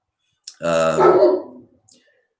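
A dog gives one loud, drawn-out bark indoors at someone outside, a single harmonic yelp lasting about a second, followed by a faint short click.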